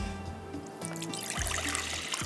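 Water poured into a bowl of packaged cake mix, a close, steady trickle and splash that grows brighter toward the end over a faint background hum.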